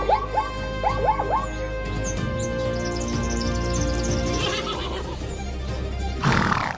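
Zebra mares with young foals on the savannah give a run of rising, repeated whinnying brays early on, then a low rumbling background fills the rest.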